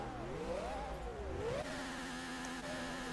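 A Minolta Toyota 88 CV race car engine in Gran Turismo 4, rising and falling revs over about three seconds, then settling into a steadier, fairly faint drone.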